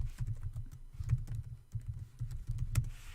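Fingers type on a computer keyboard to enter an account login, a quick run of soft clicks with small pauses, close and quiet over a low hum, with no talking.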